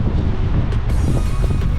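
Strong wind buffets the microphone at Seixal beach on Madeira, a loud low roar that fills the whole moment with gusty rumble and no voices.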